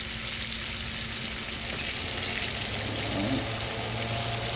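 Chicken wings for sweet chili wings fry in a pan with a steady, dense sizzle that holds at an even level throughout, with no talking.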